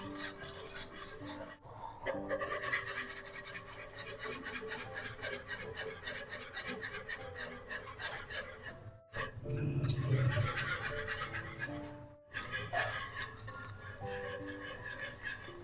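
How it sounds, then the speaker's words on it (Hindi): A spoon stirs ground rice into milk in a cooking pot while making firni rice pudding. It makes continuous rhythmic scraping and swishing, broken by two brief pauses. "अब दूध में शामिल करेंगे ग्राइंड किए हुए चावल, साथ साथ मिक्स करते जाएं।"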